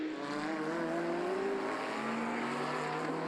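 McLaren Can-Am race car engine howling into the braking zone at the Donington hairpin, a loud, close pitch that drops as it slows.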